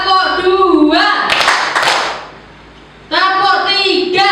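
A group of adults claps together in a counted, steady rhythm during a training session, the sharp bursts coming between stretches of voiced speech.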